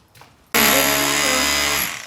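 A power drill bores into brick and concrete during demolition work, a loud sustained whine starting abruptly after a faint lead-in and running steadily for over a second before tapering off.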